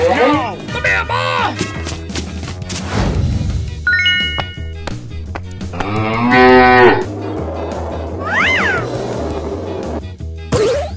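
Cartoon cow moos sound amid a busy animated mix of music, sound effects and a voice, with harmonic lowing calls standing out over a steady backing bed.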